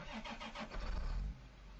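Tractor engine in the Farming Simulator video game, during a silage job: a brief starter cranking followed by a low rumbling idle that rises briefly and then steadies, with no talk.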